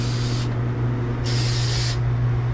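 Two bursts of spray hiss, each lasting under a second with a short gap between, loud and close over a steady low hum, with no talking.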